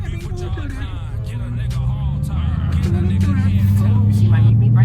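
A loud 5.7L Hemi V8 in a Dodge Challenger R/T rumbles steadily through traffic in Daytona Beach, its deep drone building toward the end while people talk over it inside the car.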